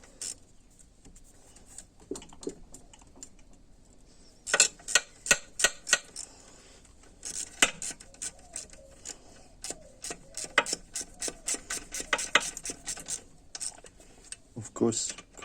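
Bolts being tightened by hand on an A604/41TE transmission in a crisscross pattern, with bursts of quick metallic ratchet clicks separated by short pauses, close and moderately loud.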